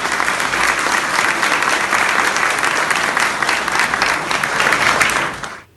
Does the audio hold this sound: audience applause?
yes